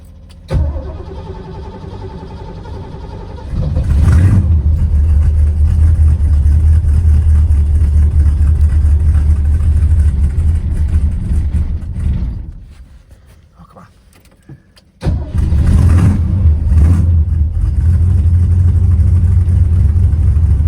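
Ford Torino engine cranking and catching on a cold day, then a loud steady idle with a deep low rumble, a brief dip where the revs drop, and the engine surging back to a strong run, close up.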